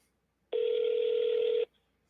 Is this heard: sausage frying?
no